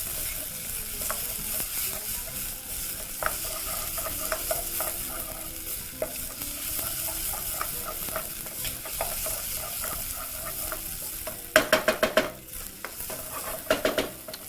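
Onions, garlic and ginger fry in a pan with a soft steady sizzle, broken by occasional stirring scrapes and a few sharper clatters of the spoon near the end.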